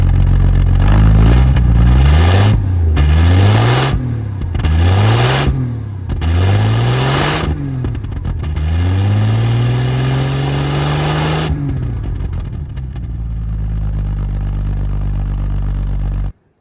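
A 1952 Hudson Hornet Twin H engine with a six-volt system, low on coolant, revs repeatedly in close, loud rising and falling bursts, then holds a longer rev before dropping back to a rough idle.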